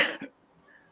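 A single short, sharp cough at the start, followed by near silence.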